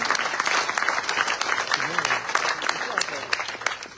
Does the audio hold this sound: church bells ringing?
no